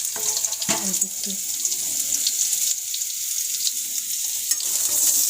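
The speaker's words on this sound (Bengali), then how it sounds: "আলুটা ভাজা হয়ে গেছে।" Potatoes frying in a pan on a gas stove at home give off a steady, close hiss of sizzling oil that runs the whole time, with a few soft clinks and stirring sounds early on.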